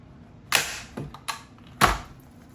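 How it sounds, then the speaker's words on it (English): A staple gun fires staples through fabric into a pin board, three sharp snapping clacks with a few softer handling taps between, close and crisp with no talking. "I'm gonna try the staple gun first so I can get it nice and tight."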